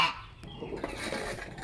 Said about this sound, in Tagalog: Oh, gangsa.